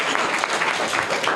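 Audience clapping for a correct answer at a quiz contest, a brief, steady burst of many hands at moderate level with no speech over it.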